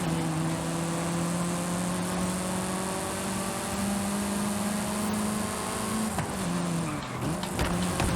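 A 1973 Alpine A110 1600S race car's inline-four engine with a race exhaust holds a steady, buzzing high-revving note in a racing game, then dips and shifts pitch briefly near the end.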